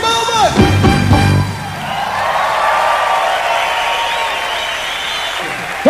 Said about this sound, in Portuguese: Quem gostou bate palmas.